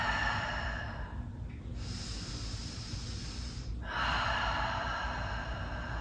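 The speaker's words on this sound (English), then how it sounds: "Breathing nice and deep." Slow, deep breaths during a seated twist in a yoga session for sciatica and piriformis relief, a long airy inhale and exhale heard close and steady with no talking.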